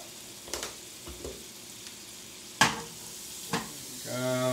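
Butter sizzles softly in a frying pan with yellow squash, punctuated by a few sharp scraping stirs and tosses, close by, with a brief voice at the end.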